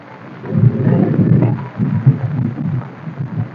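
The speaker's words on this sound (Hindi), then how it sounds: "बहुत जोरों से हवा आ रहा है यहाँ पे" Strong gusty wind during heavy monsoon rain in an open spot by the Mithi River in Powai, Mumbai, roaring in loud uneven surges that buffet the microphone and rise and fall over several seconds.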